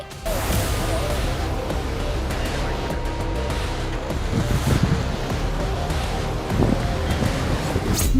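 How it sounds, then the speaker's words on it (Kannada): A continuous, loud rush of roaring water from waterfalls in the Western Ghats swollen by monsoon rain, with wind buffeting the microphone and a few louder surges. "ಜಲಪಾತಗಳೆಲ್ಲವೂ ಹಾಲ್ನುರಿಯಂತೆ ಧುಮ್ಮಿಕ್ಕುತ್ತಿವೆ"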